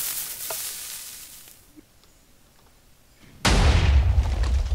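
A TNT fireworks cannon in a block-building game fires with a sudden loud blast that turns into a sustained hissing, crackling roar, after a quiet stretch with faint scattered pops.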